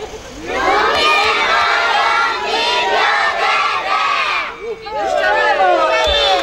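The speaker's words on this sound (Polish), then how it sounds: "krzyczymy najgłośniej jak potrafimy, a po haśle rzepki w niebo" A crowd of children at a library outreach event shouts together as loudly as they can, a sustained, dense roar of many high voices that dips briefly before surging again.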